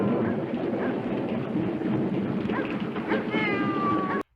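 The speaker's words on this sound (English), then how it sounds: "it seemed like that was a dubbed over meow" A dubbed-over cat meow in the film The Corpse Grinders near the end, a clear drawn-out cry over steady background noise before the sound cuts off abruptly.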